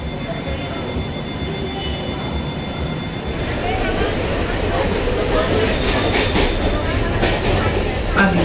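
A Mumbai AC local train at Andheri station, heard as a steady loud rumble of rolling carriages up close, with voices talking over the train noise.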